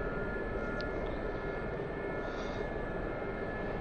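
Turbine whine and rotor drone of a Gazelle helicopter in the DCS flight simulator, a steady continuous hum during hover, even in level and unbroken throughout, with no one talking.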